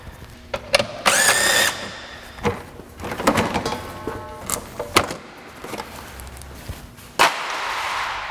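A power tool removes fasteners from the 3.2-litre engine of a 2004 Acura TL during an engine replacement. It comes as several short, sharp bursts of varying length with pauses between them, close by and fairly loud.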